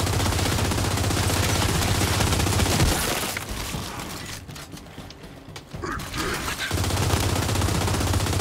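Sustained gunfire in the shooter game Gears 5, a dense loud burst of shots for about three seconds that drops away, leaving sparse clatter and quieter activity, then the heavy firing resumes near the end.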